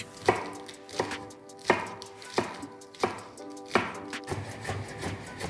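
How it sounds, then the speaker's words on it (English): A knife chops lettuce and parsley on a cutting board in a steady rhythm of close, sharp strikes, roughly two per second, for a sandwich topping, with no talking. "chop the lettuce and parsley for the sandwich topping"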